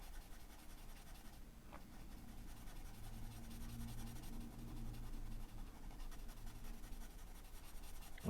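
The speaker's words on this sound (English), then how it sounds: "If you're using a marker, if you're using a pencil, you could probably fill it in easier." Pencil shading to fill in a drawing, a faint continuous scratchy rubbing of graphite on paper, steady and close with soft strokes and no voices.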